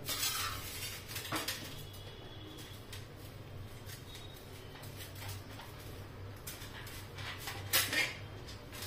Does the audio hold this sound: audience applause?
no